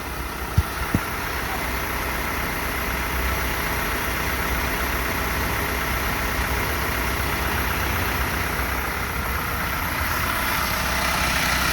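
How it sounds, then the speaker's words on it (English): A 2014 Isuzu NPR truck with a 4HK1TC 5.2L diesel engine runs steadily in a low, dense drone. Its level climbs slightly toward the end and a couple of faint clicks come early. "Rev it up a bit, Mike."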